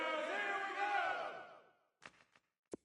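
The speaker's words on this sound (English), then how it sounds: "One of the bigger plays in the game thus far, and the crowd getting into it" A roaring virtual crowd in a PS4 football game swells loudly for about two seconds, then fades and gives way to a few short, sharp bursts of noise.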